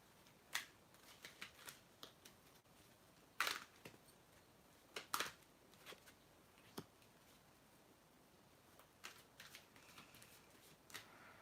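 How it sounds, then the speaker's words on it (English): Quiet, irregular bursts of tarot cards being riffled and shuffled, with scattered soft flicks and a few louder sharp riffles, and no talking. "I'm gonna shuffle again"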